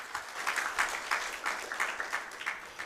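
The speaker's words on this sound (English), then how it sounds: "they deserve a huge round of applause than that" A live audience at the AYuTe Africa Challenge Uganda event applauds two winners, a steady, dense patter of many hands clapping at moderate level, with no voices over it.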